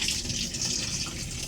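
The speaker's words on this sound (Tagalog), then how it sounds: "So ayan, lumabas na yung tubig" Water rushes steadily into a Sharp automatic washing machine, a constant hissing gush with no pauses and no voices.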